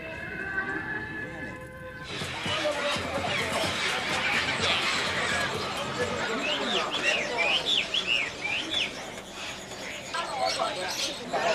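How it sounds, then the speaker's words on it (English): Many caged songbirds chirp and tweet over a dense, noisy crowd at a bird market in China, with people talking throughout. "Cacophonous sounds from the natural world abound at the bird market."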